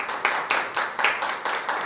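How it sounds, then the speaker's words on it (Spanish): An audience applauds at a talk on religious architecture in Ecatepec, Mexico, with steady rhythmic clapping at moderate volume, beats falling about every quarter second, and no voices over it. "Voy a pedir un aplauso, por favor"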